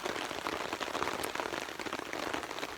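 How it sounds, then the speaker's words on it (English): Heavy rain drums steadily on a tarp at a windy canoe campsite, a dense, continuous patter close overhead with no voices. "The rain is actually getting heavier and it's getting windier."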